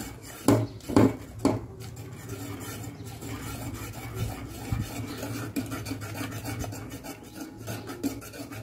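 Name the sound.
mixing rice flour paste quickly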